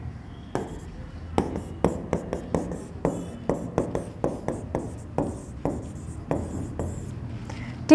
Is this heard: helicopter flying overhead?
no